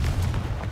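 Confringo explosive spell in Hogwarts Legacy, a short dense rumbling blast with booming low end, loud and close, lasting under a second with no voices.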